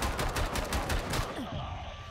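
Turret fire in the retro first-person shooter Bunker Punks comes as a rapid stream of sharp shots for about a second, then breaks off into lingering game noise.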